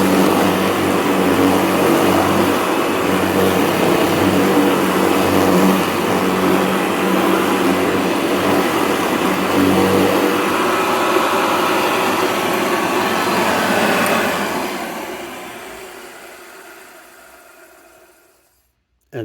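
Vintage Hoover bag cleaner, a piece of vacuum repair shop equipment, running with a loud steady motor roar and airflow whoosh that continues evenly before winding down and fading out near the end.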